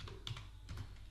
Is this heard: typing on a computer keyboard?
yes